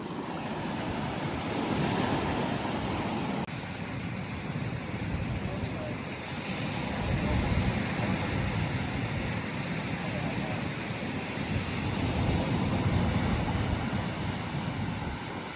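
Ocean surf rolling onto the beach at Pagudpud, a steady broadband wash of breaking waves with wind buffeting the microphone, continuous and fairly loud throughout.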